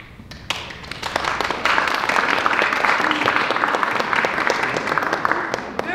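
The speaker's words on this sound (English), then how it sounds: "anyone who thinks the defendant, Mr. Big Bad Wolf, is guilty, I'd like you to applaud now." Audience at an amateur stage play applauding a mock trial vote, clapping starting thinly then swelling into a loud, crowded patter with sharp individual claps and a few thuds, steady to the end.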